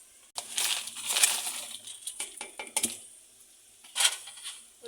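Fried pakoras dropped into a pot of kari curry, giving a run of clattering plops and metal-utensil clinks, close and fairly loud, with a final burst near the end and no talking.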